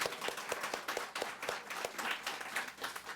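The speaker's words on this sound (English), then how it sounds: "Let's clap for Nardi too." Audience applause at the opening of the new Baden Branch Library in Prince George's County, honoring the construction company; individual hand claps stand out as a distinct, fairly quick patter of a modest crowd.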